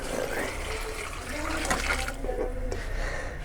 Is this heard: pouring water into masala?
yes